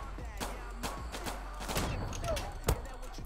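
Glock 18 pistol shots in the game Zula, rapid bursts of sharp reports with a heavier thump near the end, over a steady low background hum.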